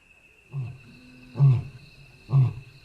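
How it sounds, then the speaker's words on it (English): A wild lion roars nearby in a series of three deep, staccato grunting bursts with clear starts and ends, spaced about a second apart over a faint steady background hum. "Another roar comes, from much closer this time."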